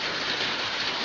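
Heavy rain falls steadily while the sun shines, a dense, even hiss of downpour close by, continuous and alone with no voices.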